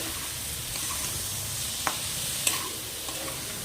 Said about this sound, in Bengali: এবার আমি এটাকে ভালো করে নাড়াচাড়া করে নিচ্ছি।